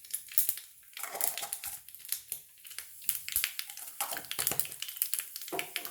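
Mustard seeds and urad dal spluttering in hot oil for rasam, a dense run of sharp close pops and crackles over a faint sizzle.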